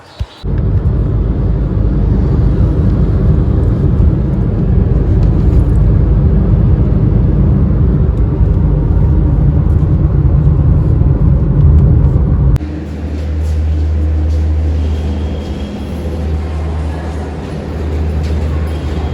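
Steady engine and road rumble from inside a moving Ola taxi in Mumbai, continuous and fairly loud, shifting to a deeper, smoother hum partway through.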